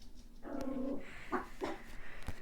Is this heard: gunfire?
no